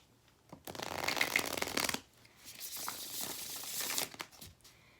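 Tarot cards shuffled while decks are switched, heard as two close bursts of papery riffling and flicking, each about a second or more long, crisp and moderately loud with no talk.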